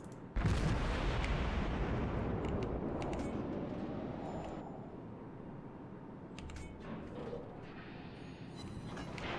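Main guns of the cruiser Hindenburg fire in World of Warships, a heavy booming blast that rolls into a long, slowly fading rumble, with faint mechanical clanks afterward.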